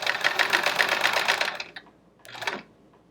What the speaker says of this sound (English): This is going to catch the stitches, the thread with a zigzag stitch.